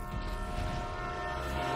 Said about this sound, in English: That's crazy how much strength you need to stop a train.